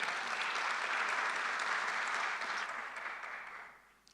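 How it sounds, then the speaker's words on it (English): Audience at an international youth forum on sustainable nuclear technologies applauds an arriving speaker, a dense wash of clapping that holds steady, then thins and fades away near the end. "let's give a round of applause to our speaker who just arrived"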